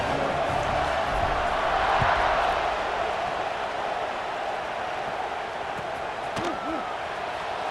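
Stadium crowd in a college football video game roars steadily just before kickoff, a broad continuous wash of cheering that swells slightly, with brief whistles and thuds near the end.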